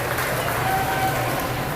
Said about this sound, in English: Let's give Madison a big round of applause for welcoming us here today